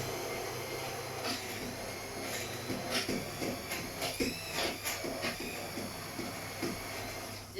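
A countertop blender purées a broccoli and almond cream soup, giving a steady, loud whirring drone with brief surges and dips as the motor load shifts, running continuously without any talk.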